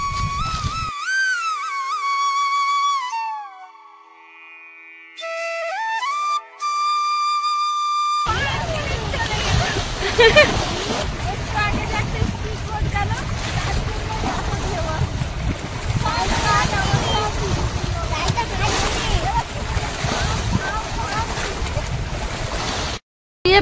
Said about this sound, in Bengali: ওই যে দেখো, নদী দিয়ে একটা স্পিড বোট যাচ্ছে, এটা বড় স্পিড বোট